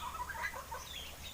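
Chickens clucking on a farm with ducks also kept there, a short stretch of soft, overlapping bird calls over faint background noise.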